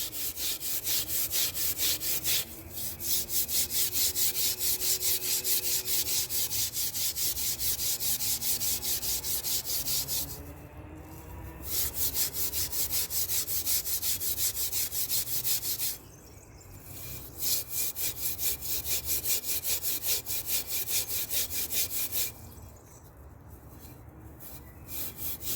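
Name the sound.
scraping rust off metal gate before painting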